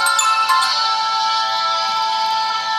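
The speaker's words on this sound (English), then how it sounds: "all my phones are just ringing" Several phones ring at once with incoming calls, a steady, bright electronic ringtone melody repeating close by throughout, with no talking over it.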